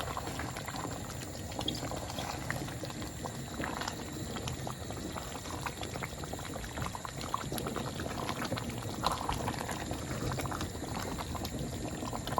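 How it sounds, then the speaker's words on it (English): Curry powder being stirred into a coconut chicken sauce in a pot, a continuous bubbling simmer with light scraping and liquid movement, close and steady, no voices. "Now add the remaining of the curry powder. You can also use curry paste. It's the same. We'll stir everything in."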